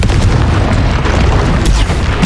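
Spell blast from the Confringo fire curse in Hogwarts Legacy, a loud, continuous booming roar with crackling bursts that fills the moment without any voice.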